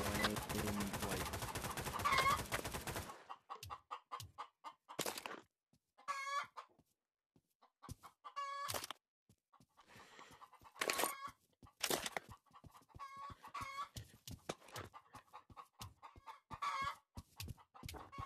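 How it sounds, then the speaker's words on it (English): Chickens in Garry's Mod TTT cluck in short scattered bursts, a few clucks and squawks spread across near-silent stretches after an opening block of dense game noise. "There's a chicken"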